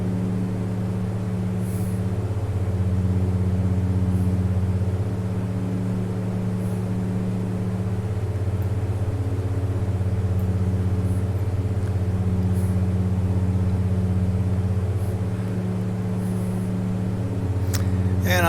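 Saab 340 twin turboprop engines in X-Plane throttling back on approach, a steady loud low drone with layered tonal hum that stays fairly constant throughout.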